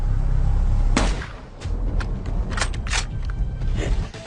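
A sniper rifle fires with a sharp, loud report at about one second, followed by several more cracks and echoing impacts over a rumbling low background, each shot short and punchy.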